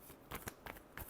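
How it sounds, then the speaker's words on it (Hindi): Tarot cards are shuffled in a few quick, soft riffling bursts, close and quiet, with brief gaps between the flicks. "Last shuffle."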